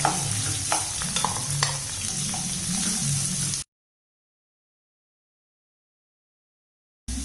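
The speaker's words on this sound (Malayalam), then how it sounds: "ഇനി ഇതിലേക്ക് നമ്മൾ അരിഞ്ഞു വെച്ചിരിക്കുന്ന 2 സവാള നമുക്കിതിലേക്കിട്ട് നല്ലപോലെ ഒന്ന് വഴറ്റാം." Two chopped onions sautéing in hot oil for a crab roast, a close steady sizzle with faint stirring clicks that cuts out halfway to silence before briefly returning, with no voices.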